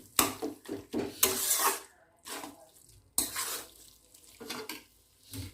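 Mutton keema being stirred as it fries in a pan, with repeated scraping and clattering strokes of a spoon against the pan in irregular bursts over a low sizzle.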